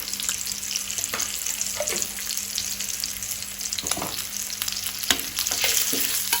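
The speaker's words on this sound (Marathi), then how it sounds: "तांतयां आमची बरी तळून जाल्या।" Eggs fry in a hot pan seasoned with salt and chilli powder for Goan-style egg masala, a continuous close sizzle and crackle broken by a few scraping stirs.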